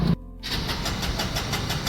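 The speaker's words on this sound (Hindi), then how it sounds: "अब मोटरसाइकिल स्टार्ट नहीं हो रही बिल्कुल" A TVS Star Sport motorcycle fails to start. A short engine burst cuts out into near silence, then an uneven, churning cranking sound resumes, loud and close, with no voices.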